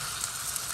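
Rice flour batter for chitol pitha sizzles on a hot pan, a loud, steady broadband crackle and hiss with no break across the short moment.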